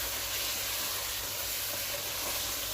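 Finely chopped green chillies frying in a pan, a steady, even sizzle and hiss, close and continuous with no talk.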